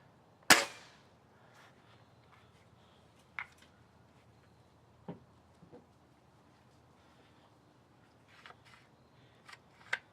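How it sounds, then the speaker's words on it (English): Silver Kodiak rimfire cartridges fire in a series of sharp, faint cracks: one loud opening shot followed by several quieter, widely spaced reports over near silence. "This is the Silver Kodiak firing."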